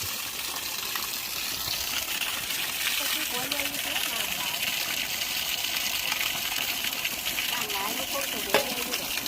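Water gushes strongly and steadily from a solar-powered water pump, a constant splashing rush, with people talking intermittently over it.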